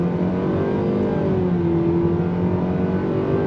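A 2025 Nissan Sentra compact sedan pulls under throttle, its engine drone holding steady and rising gently, heard from inside the cabin with no talk.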